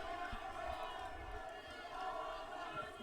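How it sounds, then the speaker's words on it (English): At a Greenbrier high school football game, a distant crowd cheers and roars steadily, with a broad, sustained wash of voices. "Greenbrier crowd having something to cheer about now."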